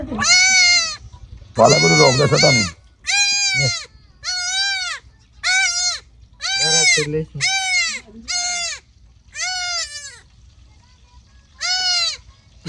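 Goat bleats ring out in a series of about nine separate calls, loud and close, with short pauses between them and a brief burst of human voices mixed into one call.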